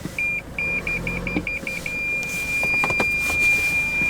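Car parking sensor warning of an obstacle directly ahead, a quick run of high electronic beeps that speeds up and merges into a steady tone, with vehicle cabin noise and faint clunks behind it, no talking.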